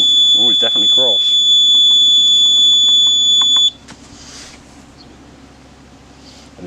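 A steady, piercing alarm tone from a Flymo 1200R robotic mower signalling that the mower has stopped. It holds for several seconds under a person's speech, then cuts off into quiet background.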